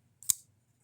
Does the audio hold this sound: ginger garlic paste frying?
no